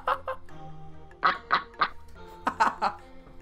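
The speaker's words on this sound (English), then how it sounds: "Is that a fucking goose?" Several goose-like honks and quacks in the Roller Coaster Tycoon 2 video game, sounding in short bursts over background game music and ambience, with a voice talking alongside.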